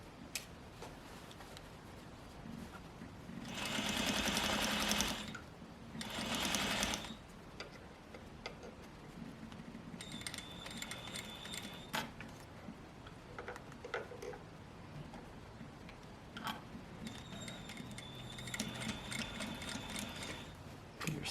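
A sewing machine stitches a skirt seam in two short, fast bursts, the first longer, followed by quieter clicking and ticking from the machine and fabric handling.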